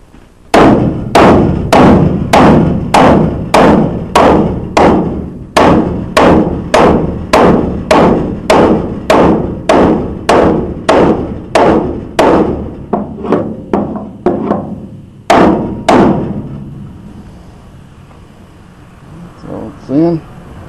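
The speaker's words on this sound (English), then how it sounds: "I have to get a bigger hammer." Heavy hammer blows strike in a steady rhythm, loud and close, about two per second, then slow and stop near the end, while reflooring a stock trailer.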